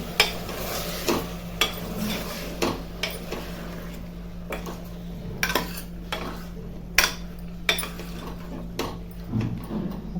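A spoon clatters and scrapes around a pot of potato curry being stirred, with irregular metallic knocks over a low, soft sizzle and a steady hum in the background.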